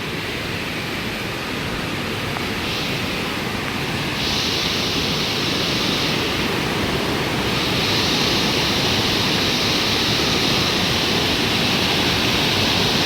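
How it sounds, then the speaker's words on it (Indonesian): A swollen river after two days of rain rushes strongly past a hillside, producing a loud, continuous roar of turbulent water that holds steady throughout, with no voices. "sungainya sangat deras sekali ya."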